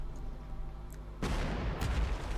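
Artillery shelling in the strategy war game Panzer Corps 2, a low rumbling bed that breaks into a heavy booming blast and sustained crackling roar partway through, with no talk over it.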